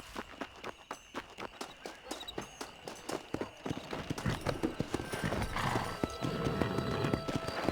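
Horse hooves in Red Dead Redemption, starting as an even clip-clop walk and quickening into a galloping run, close and clear, with a brief whinny and faint background voices.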